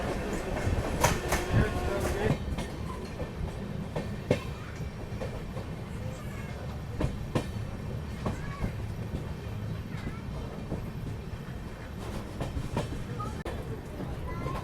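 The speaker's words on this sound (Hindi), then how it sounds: "फ़िलहाल अपनी गाड़ी एक और बड़े स्टेशन यानी कि ग्वालियर जंक्शन को स्किप कर रही है" The Secunderabad Duronto Express sleeper coach rolls through Gwalior Junction without stopping, a steady low rumble with soft clicks of wheels over rail joints, heard from inside the carriage at moderate volume.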